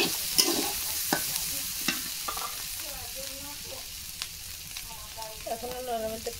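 Jackfruit being stirred as it fries in a pan, quiet scraping strokes over a steady soft sizzle, with a few brief voiced sounds in the background.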